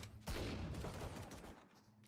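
Dense volley of gunfire traded back and forth in a Valorant grand finals match, rapid overlapping shots and bursts filling about two seconds, loud and close, then trailing off, with no voices.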